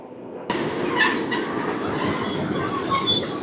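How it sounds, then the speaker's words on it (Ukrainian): Train noise at a railway station before a train to Warsaw: broadband rolling rumble with faint high squeal tones, steady and moderately loud, no talking. "Ми на місці і чекаємо потяг до Варшави."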